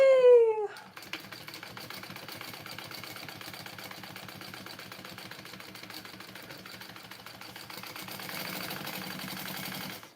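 Home sewing machine basting a pocket onto a bowler bag, running steadily for about nine seconds at an even, close, fairly quiet rhythm after a brief opening sound, with no talking.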